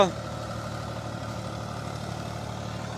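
A Swaraj 855 tractor engine idles with a low, steady diesel hum that stays even and continuous. It sounds moderately close, and faint background sounds sit under the engine.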